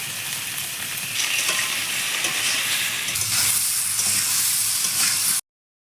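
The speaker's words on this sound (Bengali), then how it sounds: "কুমড়োটা ভাজা হয়ে গেছে," Ash gourd pieces fry with salt and turmeric in a hot pan, a continuous bright sizzle with stirring scrapes that swells louder midway, then cuts off abruptly.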